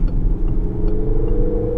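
Cabin drone of a Peugeot 3008 with a 1.6 litre petrol engine cruising at nearly 70 mph on an A road: a steady, loud low rumble and whir with faint ticks on top, no voices.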